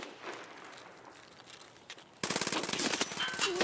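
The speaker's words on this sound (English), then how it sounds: "That's a vector." A Vector submachine gun firing in Escape from Tarkov: after quieter scattered shots, a loud, rapid, fast-cycling burst of automatic fire starts abruptly and carries on to the end.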